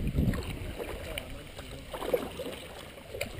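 Kayak paddles dipping and pulling through river water on an overcast day, soft irregular splashes and gurgles close by with faint wind, while people talk quietly over it.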